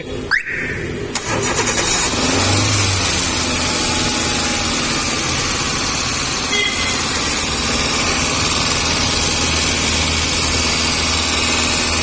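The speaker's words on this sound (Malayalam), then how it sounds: "വണ്ടി സ്റ്റാർട്ട് ചെയ്ത് കഴിഞ്ഞാൽ വണ്ടി ഇങ്ങനെ റൈസായി നിൽക്കുകയാണ്" A Hyundai Santro engine runs steadily at a raised idle after a brief start-up, racing without throttle, loud and close, with a constant droning hum throughout.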